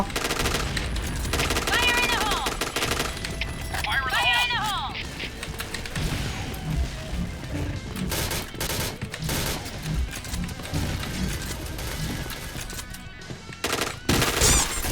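Automatic gunfire in the online shooter Point Blank, rapid bursts rattling through most of the stretch alongside game effects and busy background noise, with a person talking over parts of it.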